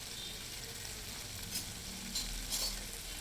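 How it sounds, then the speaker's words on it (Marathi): Tomatoes sautéing in a pan over low heat, salted, make a soft, continuous sizzle with occasional light stirring scrapes, close by and without any speech. "आता आपलं टोमॅटोसुद्धा कमी गॅसवर छान शिजून झालं आहे."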